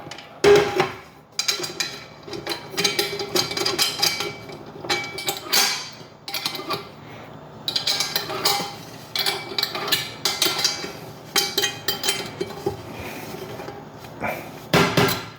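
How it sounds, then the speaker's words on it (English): Screws are tightened to fix the handle onto a 12-inch skillet, giving close, irregular metallic clicks, knocks and clinks in scattered clusters, with handling noise between them and no speech. "put the handle, the holes in the handle on the screws, and then tighten them down."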